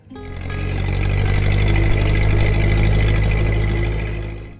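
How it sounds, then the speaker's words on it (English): A Ford 8N tractor engine runs with a loud, steady low rumble and throb that swells in quickly and holds nearly constant before tapering slightly at the end. "The Ford 8N was more than a tractor."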